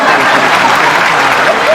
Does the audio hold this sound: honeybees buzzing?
no